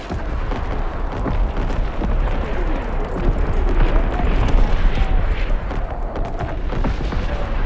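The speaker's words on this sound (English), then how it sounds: "Incoming enemy artillery!" Incoming enemy artillery explodes in a continuous barrage, with deep booms and overlapping blasts rumbling loudly without pause for several seconds.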